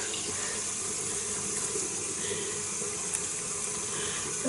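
Water runs steadily from a tap into a sink, a continuous close hiss and splash with no pauses or talk.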